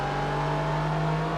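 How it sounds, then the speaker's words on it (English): A car engine in Gran Turismo 4 Prologue holds a high, steady rev in second gear, a loud sustained whine with a constant pitch that eases off at the very end. "shift into second gear, give it about as many revs as possible"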